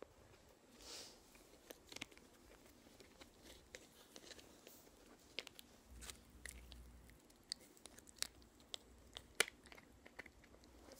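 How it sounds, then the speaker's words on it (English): A dog chews and crunches on something in close, quiet ASMR-style detail, with scattered sharp bites and soft clicks over near silence. "And here's an ASMR of my dog Crunchy."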